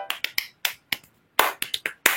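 A series of sharp finger snaps, about a dozen, in an uneven rhythm with brief pauses, crisp and close with no talking.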